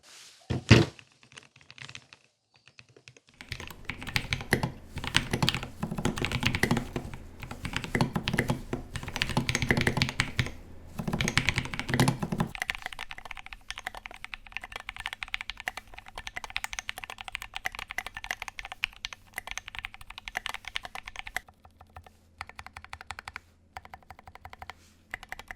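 Typing on a homemade metal mechanical keyboard produces rapid bursts of clicky keystrokes, with brief pauses between runs and some heavier thunks in places. The sound is close and continuous over the full length.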